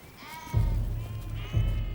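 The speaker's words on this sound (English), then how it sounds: "Introduced 150 years ago, sheep thrive in Patagonia." Sheep in Patagonia bleat twice in close succession, each a strong, wavering call over a quiet outdoor background, with no one speaking.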